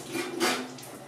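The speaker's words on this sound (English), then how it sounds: "Washing my hands." Tap water runs briefly in a kitchen while hands are washed during keto bread baking, a short soft splashing rush that swells and fades within about a second.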